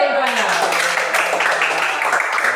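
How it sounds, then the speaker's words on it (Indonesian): Children in a classroom clap their hands together in a dense, steady patter throughout, with young voices chattering over it. "Oke, tepuk tangan dulu teman-temannya."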